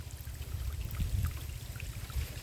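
Near and soft, a small stream of water falls from higher up with a continuous trickling, splashing flow and a few brighter drips, no voices over it.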